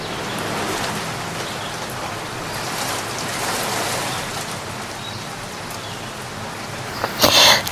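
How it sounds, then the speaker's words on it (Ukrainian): Steady rain patters on a surface in a dense, even hiss, with a brief louder burst of noise just before it ends. "Це звук дощу."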